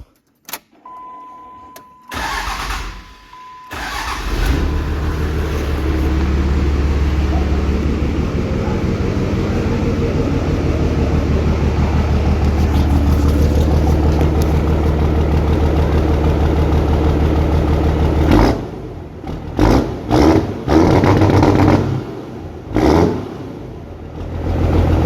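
Toyota Sequoia with a straight-pipe exhaust and vanes off, starting up and then running loud and steady with deep rumbling revs for about fifteen seconds before blipping a few times as the engine cuts out.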